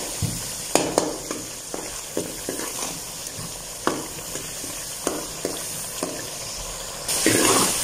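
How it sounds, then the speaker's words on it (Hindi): Water goes into a hot pan of spices for mung dal and potato sabzi, with a steady sizzle, scattered clicks of stirring and a louder hiss near the end. "थोड़ा सा पानी डाल देते हैं।"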